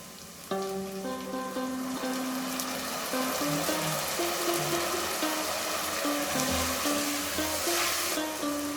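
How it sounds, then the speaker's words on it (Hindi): Half a cup of water is poured into minced beef browned with soy sauce for spaghetti, giving a steady watery hiss and splash over background music. "आधा कप इसमें जाएगा पानी।"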